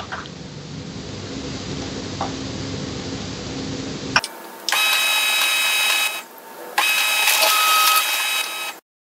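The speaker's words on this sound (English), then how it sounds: "press on the information button to print an information page" An HP LaserJet MFP laser printer runs an information page: after a short quiet stretch, the machine starts with a clunk and then two loud bursts of whirring, rattling feed and print noise with a brief dip between them.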